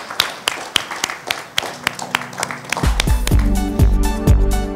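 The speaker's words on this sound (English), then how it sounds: "We must applaud the audience." An audience at a business panel session applauds: scattered individual claps first, then building into fuller, louder clapping with a low rumble underneath.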